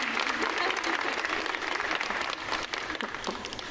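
A crowd applauds continuously at a nursing graduation pinning ceremony, a dense wash of clapping that holds steady and then eases slightly toward the end.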